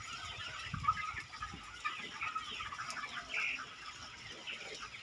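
Young laying hens on a farm, several birds clucking and chattering nearby in an irregular overlapping flock, with a few sharper calls standing out.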